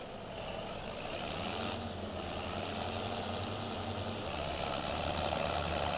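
A tractor pulling a cultivator through a field drones steadily, its low engine rumble constant and fairly faint, with a slight shift in pitch midway and no talk over it.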